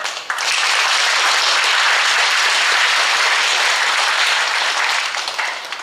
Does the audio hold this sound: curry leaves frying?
no